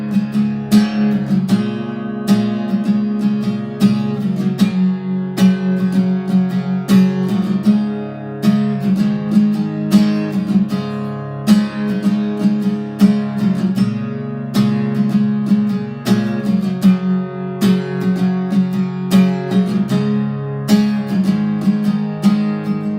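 An acoustic guitar strums the chorus of a song with open, unmuted strings, in a steady down-down-down-up pattern that keeps going, loud and close, with no voice.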